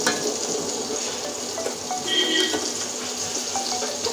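Sugar syrup for jalebi simmering in a pan, a steady close bubbling hiss with small pops and clicks throughout, no voices.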